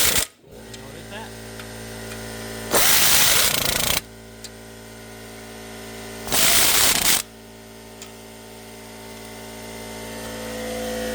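Bolts on the pressure plate of a 2013 Mazda 3 clutch being tightened, two bursts of loud ratcheting or impact-tool whirring, each about a second long, separated by a quiet workshop hum.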